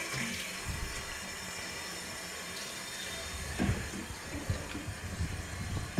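Hot water runs steadily from a newly replaced bathroom faucet into the sink, a continuous close rush with a few louder splashes and knocks toward the end.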